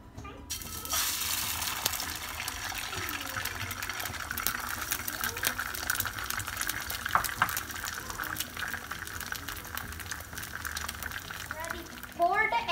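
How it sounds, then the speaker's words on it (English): An egg fries in a hot pan: steady sizzling and crackling fills the clip, a broad continuous hiss, fairly loud with small pops throughout. "Now we pour the egg."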